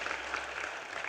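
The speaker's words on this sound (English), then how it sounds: "Maybe a round of applause, everybody" Steady applause from an audience, dense clapping filling the whole moment without pause, moderately distant and fairly quiet.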